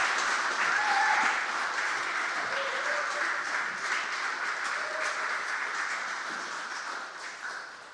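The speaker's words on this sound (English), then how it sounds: "could you give him a really big round of applause as I invite Patrick up" Audience in a church gathering applauds warmly in a sustained, full round of clapping that gradually tapers off near the end.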